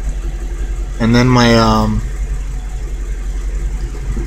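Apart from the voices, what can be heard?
car engine idling as the RPMs drop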